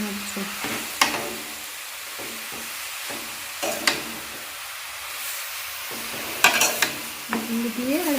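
Jaggery gets stirred in a pan over a low hiss of cooking, with intermittent close scrapes and knocks of a spoon against the metal at an uneven pace.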